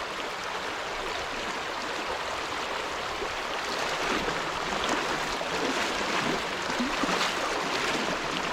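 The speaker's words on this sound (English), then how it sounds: "Evolution Creek." Evolution Creek, a mountain stream in Evolution Valley, rushes steadily, giving a continuous broadband hiss and burble of flowing water with no voices.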